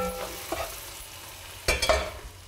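Food with grated root ginger sizzling in a pan as it is stirred, a low frying hiss broken by a few scraping utensil strokes, brief and close with no voices.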